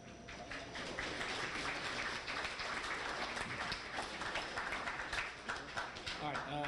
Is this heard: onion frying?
no